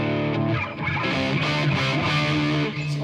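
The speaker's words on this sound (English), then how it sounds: "It is coming straight from Neural Amp Modeler as you're hearing it and into the reverb." An electric guitar played through a Neural Amp Modeler profile with reverb rings out heavily distorted, dense sustained chords and notes continuing loud and close throughout, with no talking.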